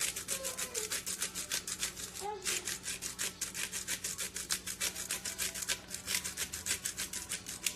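A hand grinder grates an ingredient for a vegan carrot cake, a fast, rhythmic rasping scrape repeating steadily throughout, close up, with a brief faint voice in the background.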